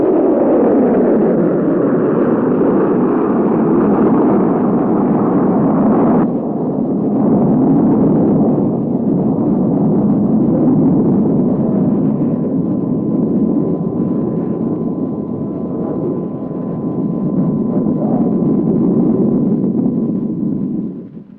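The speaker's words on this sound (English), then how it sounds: "The Army Sergeant surface-to-surface guided missile was the last weapon to be tested at Launch Area Number 1" An Army Sergeant surface-to-surface guided missile with a solid propellant motor launches at the White Sands Missile Range, a loud, continuous roar that lasts twenty seconds with little change, rough and broadband, with no voices.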